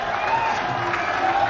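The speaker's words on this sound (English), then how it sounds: "Crowd enjoyed that, and Latham's smiling" Cricket crowd at a stadium during an India vs New Zealand Test final, a broad wash of applause and cheering with scattered whoops, steady and distant throughout.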